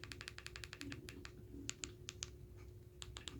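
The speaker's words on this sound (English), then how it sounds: "you want to type down 4K test pattern" Someone types on a computer keyboard in a quiet room, with a rapid run of crisp key clicks, a brief pause, then a few more taps, faint and close, over a low steady hum.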